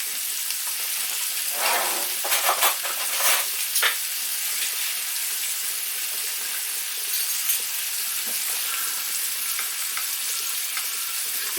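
Asparagus sizzles in a pan of oil and butter, a steady close hiss with a few clattering stirs in the first few seconds, then an even frying sound.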